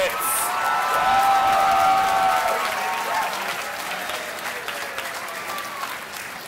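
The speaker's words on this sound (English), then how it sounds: "Let's have a huge round of applause for all the planning graduates." Applause and scattered cheering from a commencement crowd for planning graduates at a USC graduate ceremony, steady clapping that holds loud for several seconds with whoops on top, then gradually thins and fades.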